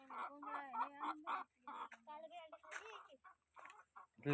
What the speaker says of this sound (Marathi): हे बघा दिसलं कोंबड्या दिसल्यात